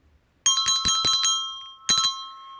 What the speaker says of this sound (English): I could play the harmony for you with the bell